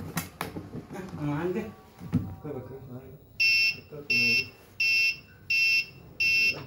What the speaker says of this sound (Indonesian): ketika sampah penuh, buzzer akan berbunyi seperti ini